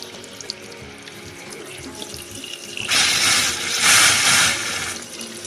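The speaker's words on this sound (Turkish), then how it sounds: "Biraz soğuk su çekiyorum." Cold tap water runs onto a pressure cooker lid in a kitchen sink, a low trickle at first, then a loud, close gush of splashing water from about three seconds on.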